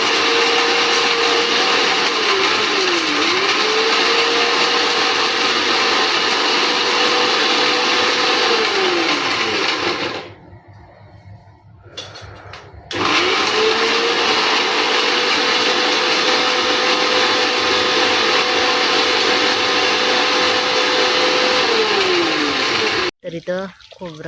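A mixer grinder whirs loudly, blending coconut, ginger and coriander into a paste in a village kitchen, a continuous motor whine with two brief pauses between runs.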